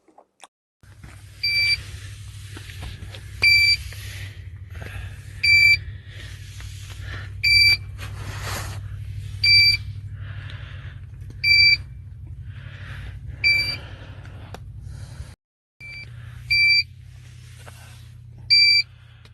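A small smoke alarm, set off by smoke in a tent, beeps in sharp, high double-toned chirps about every two seconds, loud and close, over a steady low hum.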